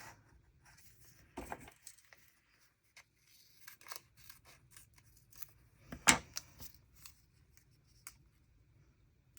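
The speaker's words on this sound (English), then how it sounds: "we'll trim off all the edges as well" Scissors snip paper edges while trimming pieces for a creative journal, giving sparse, quiet cuts with one sharper, louder snip near the middle and faint handling rustles between.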